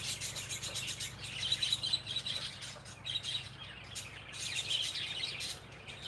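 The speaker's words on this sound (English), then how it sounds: "woodpecker around here or something" Outdoors in the morning, small birds chirp and twitter in scattered bursts over a soft, steady background hum, fairly faint and distant, with rough scratchy textures that may come from a woodpecker working nearby; no one talks.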